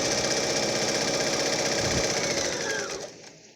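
A sewing machine stitches a fabric face mask with a steady, close mechanical whir that slows and stops near the end.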